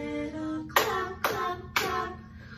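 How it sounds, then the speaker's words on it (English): Preschool children clapping hands during a gymnastics class song, three distinct clap bursts in a steady rhythm, each a cluster of many small hands, following a held sung note. "give a little clap, clap, clap."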